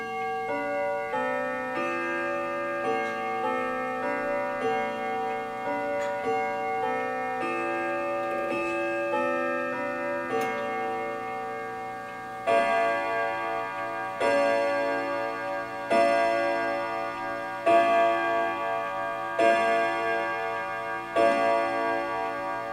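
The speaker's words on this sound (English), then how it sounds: "you will hear the difference between the battery powered clock and the mechanical one" A mechanical grandfather clock ticks steadily throughout, its regular beats sounding alongside ringing, resonant chime-like tones that grow more pronounced in the second half.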